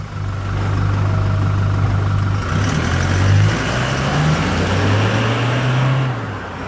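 A Toyota Hilux GUN125 fitted with a Ganador muffler idles and revs gently, its exhaust giving a steady low drone with smooth rises and falls in pitch, close and loud with no talk.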